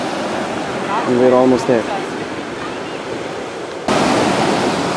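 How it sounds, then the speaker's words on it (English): Gentle ocean waves wash steadily onto a sheltered beach in an enclosed bay near Rio, a continuous broadband surf wash with someone speaking briefly over it near the start. "The waves are more benign here because it's an enclosed region"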